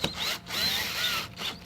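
A power drill drives a self-drilling screw into a pre-drilled hole in short whining runs, the motor pitch rising and falling with brief pauses between bursts, close and fairly quiet.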